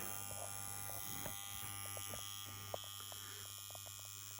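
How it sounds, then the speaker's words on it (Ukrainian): A steady low electrical hum of the transformers in a G4-6 vacuum-tube signal generator drones continuously, close and even, with faint crackles and ticks scattered over it and no voices. "Як ви чуєте, потужний гул трансформаторів."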